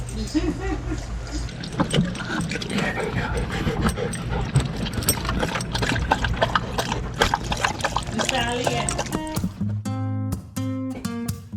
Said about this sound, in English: The dogs are getting a drink too.